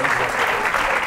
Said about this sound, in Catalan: Aplaudiment també pel jurat